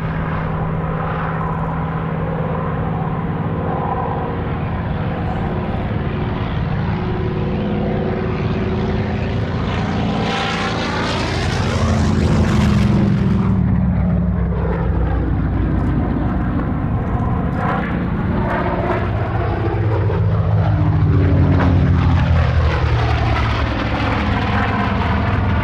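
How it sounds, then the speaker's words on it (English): A Douglas Skyraider propeller aircraft flies past in formation with a Royal Navy Historic Flight Sea Fury and a Supermarine Seafire. The engines drone loudly, sweeping in with a rising and falling Doppler pitch, swell to a peak as they pass overhead, then recede. "the massive Douglas Skyraider takes to the air for another unique formation flypast"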